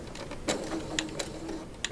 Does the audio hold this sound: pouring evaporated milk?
no